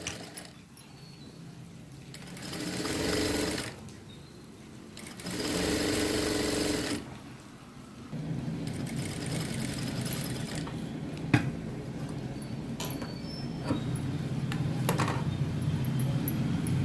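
A sewing machine runs in several bursts, stopping and starting, as it stitches a 1/2-inch folded hem along blouse cloth, with faint clicks and handling noises between runs.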